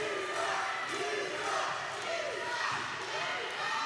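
A wrestling crowd in Temple, Georgia reacts to wrestler Brad Lynch with a sustained roar of jeers and shouts that holds dense and loud from start to finish.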